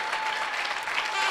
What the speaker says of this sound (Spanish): Vamos, denle un aplauso al Rey fuerte